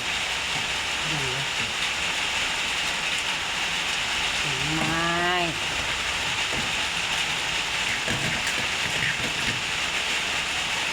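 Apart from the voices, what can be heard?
heavy rain falling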